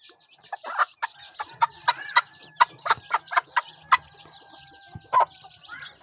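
A mother hen clucks among her chicks, giving a run of short, rhythmic clucks up close, with faint high peeps from the chicks and a little distant background noise.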